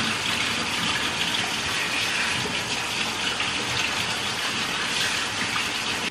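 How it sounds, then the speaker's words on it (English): Water pours steadily as two cans of black beans drain through a strainer, a continuous loud gushing rush like a running tap that holds even from start to finish with no talking. "Gotta get a strainer to strain the beans."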